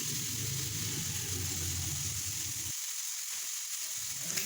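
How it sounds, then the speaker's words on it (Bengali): Onion and tomato frying with salt in a pan for a Bengali pabda fish curry, a steady loud sizzle throughout with the low bubbling dropping out near the end. "আমি সামান্য পরিমাণ লবণ এর মধ্যে দিয়ে ভালো করে আবারও কিছুক্ষণ ভেজে নিচ্ছি।"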